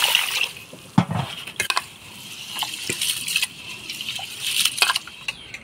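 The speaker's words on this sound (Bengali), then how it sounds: "এবার চালটা ধুয়ে নিব।" Rice being washed in water for jira rice, with sloshing, trickling and pouring sounds, grains swirling, and occasional light clinks of a vessel, close by and moderately loud in irregular bursts.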